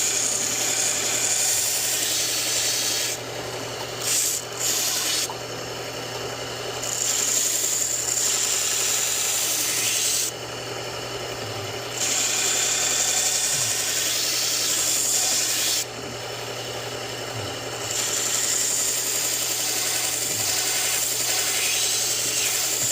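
A belt grinder sharpens the recurved edge of an old heirloom pocket knife, a steady abrasive hiss and rub that keeps running with a few short breaks as the blade is lifted away and pressed back onto the belt.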